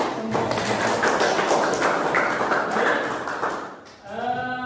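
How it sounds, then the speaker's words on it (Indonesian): A classroom of students claps together in a brisk, fairly loud burst of many hands that tapers off near the end, followed by a voice beginning to speak. "Tepuk tangan dulu."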